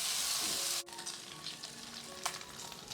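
Beef and large chilies frying in oil in a pan, a steady loud sizzle that briefly cuts out and then continues more softly with faint stirring scrapes.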